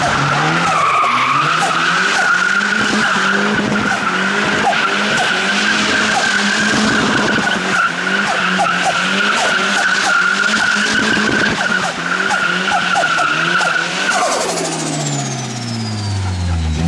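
A BMW 316 drift car with a new turbo and MaxxECU sliding with throttle blips, loud sustained tire screech over a revving, stuttering engine, close, then fading as the car pulls away.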